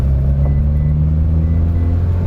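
A Mitsubishi DSM/Evo with a five-speed manual gearbox pulls in second gear, its engine a loud, steady low rumble close by with no voices.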